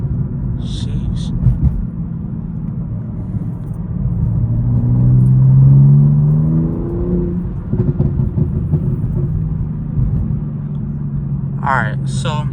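A 900 BHP BMW M4 rumbles while driving at night, a deep, steady drone that swells in a rising rev before settling back, heard from inside the car with voices talking over it.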